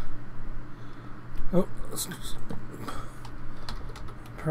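Clicky typing on a computer keyboard during a Minecraft-style game session, irregular bursts of keystrokes close to the microphone, partly under a voice talking.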